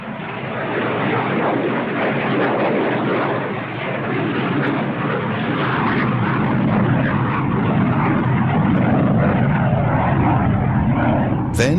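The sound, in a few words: Antonov AN-22 turboprop military transport aircraft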